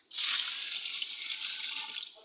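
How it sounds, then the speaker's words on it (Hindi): A strong, steady stream of water pours into a large cooking pot for a big batch of chicken pulao, a continuous close rushing hiss from start to end. "तो इसमें शामिल कर रहे हैं पानी।"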